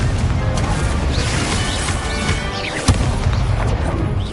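Confringo explosive spell blasts in a Hogwarts video game, a dense roaring crackle of fiery bursts with one sharp boom standing out midway, loud and continuous throughout.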